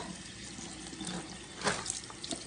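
Tap water runs steadily into a sink as a raw turkey is rinsed under it, with a brief louder splash midway and no talking.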